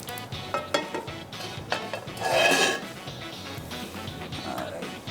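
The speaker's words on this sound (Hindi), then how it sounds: "मेरे यहाँ पर मैं एक सॉस पैन ले लेता हूँ" Saucepan clatters and scrapes against a stovetop in a home kitchen while shepherd's pie is prepared, a few close metallic knocks with a brief louder rattle midway, no talking.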